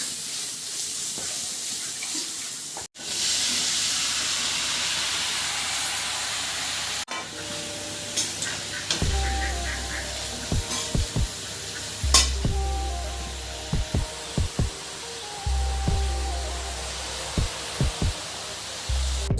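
Taro curry with salt, turmeric and spices fries in a pan with a steady close hiss and sizzle, while a spoon stirs through it with repeated clinks and scrapes.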